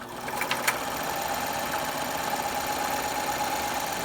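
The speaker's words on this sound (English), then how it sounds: "Now I'm going to wind my bobbin." A sewing machine winding its bobbin gives a steady, even whir with a few light clicks at the start, running close and alone.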